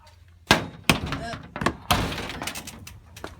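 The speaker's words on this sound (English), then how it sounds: "Opening a door with one hand with a hatchet in one hand is pretty hard" A door being opened one-handed while the other hand holds a hatchet, heard as several sharp thunks and knocks of the latch and door, close by.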